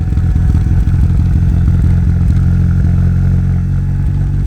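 A turbo Mitsubishi Lancer running rich idles roughly on a cold start, giving a loud, close, uneven low rumble with steady lumpy pulses throughout.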